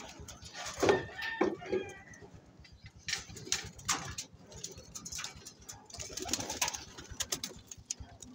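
Soft coos and rustling from nearby racing pigeons, with scattered fluttering and pecking sounds in a quiet space.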